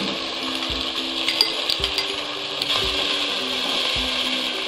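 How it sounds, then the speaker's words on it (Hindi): A spoon stirs Manchurian vegetables with sugar and tomato ketchup in a pan over a full high flame, making a steady sizzling hiss with regular soft scraping strokes of the spoon, close and continuous, with no voices. "इसे अच्छी तरह से चम्मच चलाते जाएँ फुल चूल्हे पे"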